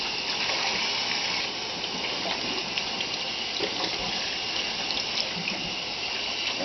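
Tap water runs steadily into a sink as a brisket is rinsed under it, a continuous close splashing gush with slight variations, no talking.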